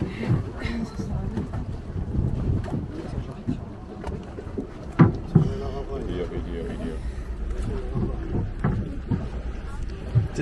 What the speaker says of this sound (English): We're gonna get on the boat.